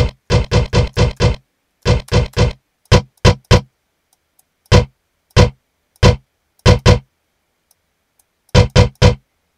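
Crisp hi-hat hits programmed in a beat, ticking in quick clusters and scattered single strikes with silent gaps between groups, loud and dry with no other sound.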